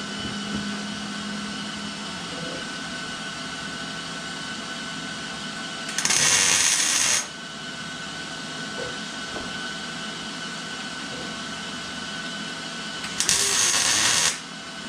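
A steady shop hum runs under two short, loud bursts of tack welding as traction bars go onto a truck. Each burst is a harsh crackling buzz of about a second, and the second comes several seconds after the first.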